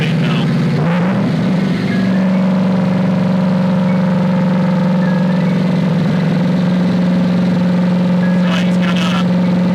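Twin-turbo Corvette C8 engine in third gear, holding a steady droning tone under people talking, with a few brief rises in pitch near the end.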